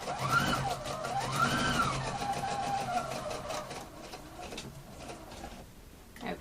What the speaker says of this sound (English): I'm now going to start sewing from the back